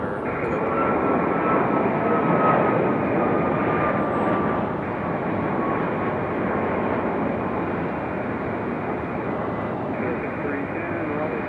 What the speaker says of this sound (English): Rotation for Copa.